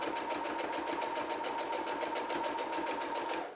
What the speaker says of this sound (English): There's 6 layers that we're sewing through right now.